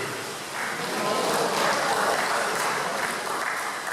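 A congregation in a church at a burial service breaks into sustained applause, a close, dense clapping that swells and stays steady for several seconds.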